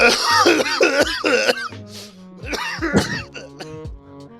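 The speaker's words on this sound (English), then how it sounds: "I was gonna howl, but I guess coughing works too." Several harsh coughs in quick succession, close and loud, followed by a few throat-clearing hacks and shorter coughs trailing off.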